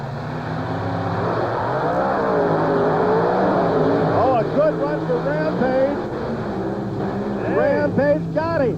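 Monster trucks Bigfoot and the black Dodge Rampage racing at an arena event, engines roaring loudly and continuously with crowd noise, while an announcer talks over the din.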